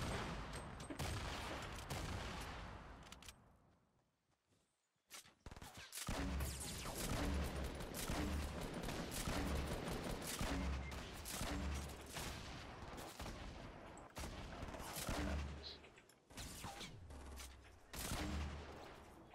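Bursts of rapid gunfire in the battle-royale game Fortnite crackle repeatedly, loud and close, with a brief near-silent gap before a steady run of punchy thumping shots continues to the end, no speech over it.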